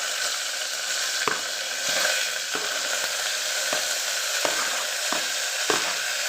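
Onions with curry leaves and green chillies hitting hot oil in a Tamil chickpea biryani, a steady close sizzle with sharp scraping ladle strokes recurring roughly every second.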